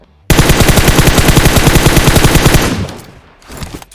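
Rapid automatic gunfire in PUBG Mobile, a loud, close, steady burst of evenly spaced shots lasting over two seconds before cutting off, followed by fainter scattered shots.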